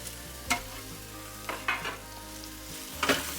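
Venison searing in a hot pan, a steady loud sizzle and fry running throughout with a few brief stirring clatters and scrapes, no voices.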